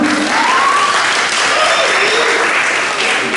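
A crowd claps steadily for a few seconds at a school summer school celebration, dense and continuous applause at a moderate level with no pauses.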